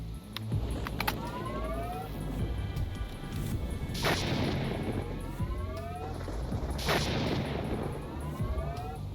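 An updated gauss gun in the STALKER Gunslinger mod for Shadow of Chernobyl fires several heavy, booming shots, each with a rising electronic whine, over steady background noise.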